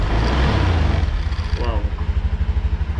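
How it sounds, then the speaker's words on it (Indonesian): A 2020 Honda Beat Street scooter engine gets a light blip of throttle, then settles into a steady, close, throbbing low idle, with a brief voice partway through. "Kita coba langsung gas sedikit."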